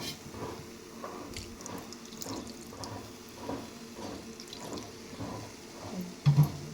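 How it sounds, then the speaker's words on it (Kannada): Milk poured into a flour mixture in a pan while cooking, heard as a soft continuous liquid trickle and wet squishing near at hand, ending with a couple of louder knocks. "ಸ್ವಲ್ಪ ಹಾಲು ಹಾಕ್ತೀನಿ ರೀ ನಾನು ಅದಕ್ಕೆ"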